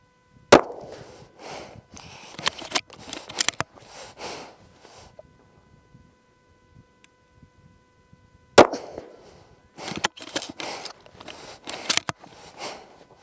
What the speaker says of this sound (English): Now we're going to take three more shots.